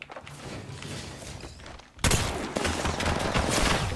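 Shotgun blasts in the battle royale shooter Apex Legends, a dense burst of loud gunfire that jumps in level halfway through and stays heavy, close and continuous to the end.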